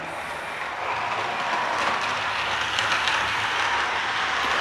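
A PIKO model locomotive, the electric engine nicknamed Ćmielak, rolls along a model railway track with a steady rushing hum and faint rhythmic clicking, growing slightly louder after the first second and holding steady, with no voices.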